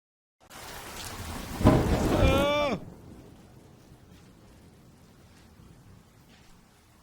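Thunder rumbles loudly for about a second and then fades into steady soft rain in a video game city scene, with no talk.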